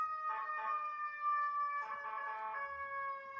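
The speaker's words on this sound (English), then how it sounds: "There's the ambulance." An ambulance siren sounds at a distance, a wailing multi-tone call that holds steady tones and swells and fades slightly over a few seconds, with no talking.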